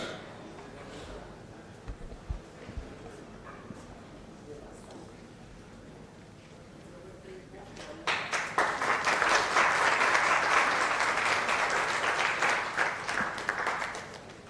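At a charity awards night, a quiet stretch of background murmur gives way partway through to loud audience applause that swells and then carries on steadily to the end.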